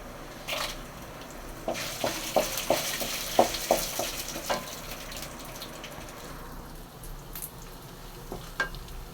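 Dried red chillies frying in hot oil with urad dal: a steady sizzle with a run of sharp spoon-stirring clicks in the middle, close and moderately loud, with no voices.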